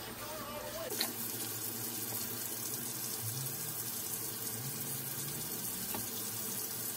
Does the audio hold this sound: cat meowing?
no